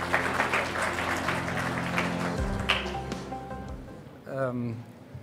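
Audience applause at an official opening ceremony, a fairly faint, steady patter of clapping under a voice over a sound system, tapering off before a speaker's voice returns.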